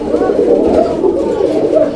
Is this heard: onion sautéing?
no